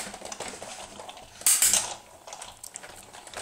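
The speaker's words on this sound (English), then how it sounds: "that's just regular noise there, making the clicks. It's cutting it into the cardstock." A hand-cranked die-cutting machine winds a plate sandwich through cardstock, giving off soft, irregular mechanical clicks and ratcheting. A brighter metallic clatter bursts out near the middle, all fairly quiet and close.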